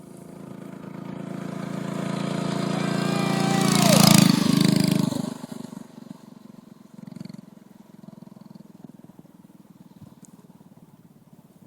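A homemade minibike doodlebug on a first test run drives past on a street, its small engine buzz swelling loudly as it nears, peaking, then fading away into the distance.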